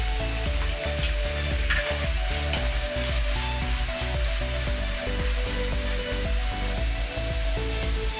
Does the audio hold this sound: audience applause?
no